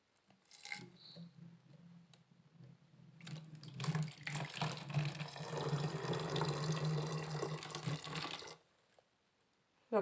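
Water from a tap fills a bottle, a steady splashing rush that starts softly, swells into a full, constant stream for several seconds, then stops abruptly, followed by a brief knock at the end.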